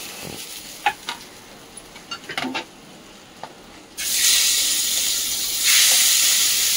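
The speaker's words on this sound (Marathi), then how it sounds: "जास्त नाही फ्राय करायची, हलकी फ्राय करायची।" Fish pieces lightly frying in oil in a pan for a homemade fish curry, a few light clinks and stirs before a loud steady sizzle and hiss starts and swells up close.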